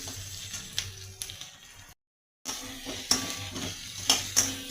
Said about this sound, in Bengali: একটু ভালো করে ভেজে নিচ্ছি।